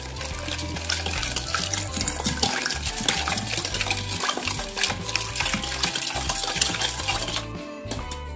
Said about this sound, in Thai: คนค่ะคนเสร็จก็เอาน้ำอุ่นใส่